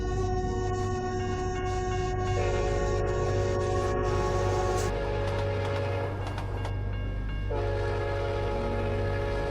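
A train nearing a flock of sheep on the tracks sounds its horn in two long, loud blasts over a steady rolling rumble.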